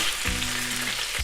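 Boiled konnyaku pieces drop into a hot pan of garlic oil, setting off a loud, steady sizzle with a sharp burst near the start and a fresh splash of frying near the end.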